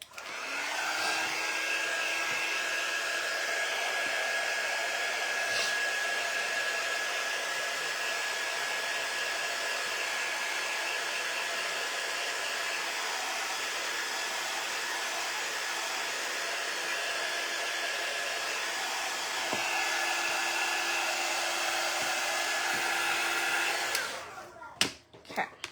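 A hair dryer blows on a paper craft box piece, a steady close whine and rush of air running unbroken for about twenty-four seconds before clicking off.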